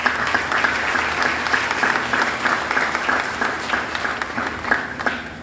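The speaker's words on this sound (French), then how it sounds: "applaudissons-les ad majorem Dei Gloriam pour la plus grande gloire de Dieu" A church congregation at a Catholic parish Mass applauds together, a steady, dense wash of many hands clapping that holds evenly for several seconds without speech.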